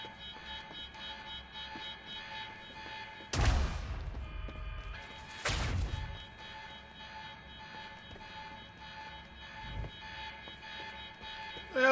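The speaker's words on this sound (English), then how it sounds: "Turn off the alarm." An alarm rings in the video game Quantum Break during the Monarch Gala: a steady electronic buzzing tone runs throughout, broken by two loud sharp bursts and a fainter one later, with no talk.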